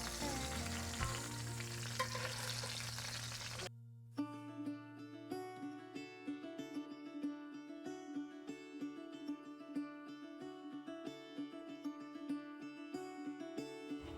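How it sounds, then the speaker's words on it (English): Chicken sautés in a pan with steady close sizzling and crackle. Light scraping and stirring sounds are heard over about fourteen seconds without speech. "So we're going to basically just saute these and take them out once they're done"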